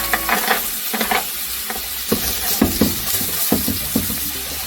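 Onion and carrot frying in a hot pan at the start of a fried rice: steady sizzling with repeated stirring scrapes and spatula clatter, close and continuous, no voices.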